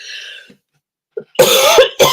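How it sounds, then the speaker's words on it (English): A few sharp, loud coughs close by, a short burst after a soft breathy start and a pause. "I'm coughing."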